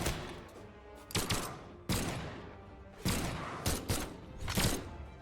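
Gunfire bursts ring out in a fighting video game match, a series of sharp loud shots and short volleys spaced irregularly over a constant busy game background.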